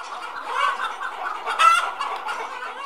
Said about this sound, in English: An almost extinct breed of chicken endemic to this area has been revived.